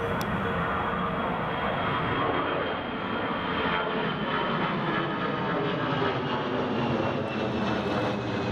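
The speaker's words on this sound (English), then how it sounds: "That's EasyJet to Belfast Airborne." An EasyJet jet airliner takes off from Newcastle Airport during Storm Isha, its engines a loud, steady roar that fills the whole stretch without a break, with wind noise mixed in.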